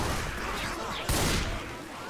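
Gunfire with explosive ammo in Left 4 Dead 2, a dense burst of shots with a sharp loud crack near the middle, close and busy over a noisy background.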